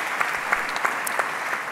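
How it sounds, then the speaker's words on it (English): Steady applause from a conference audience, a dense even wash of clapping with a few slightly louder claps standing out, at moderate level with no voices. "A big applause for Giorgia Rambelli, ladies and gentlemen."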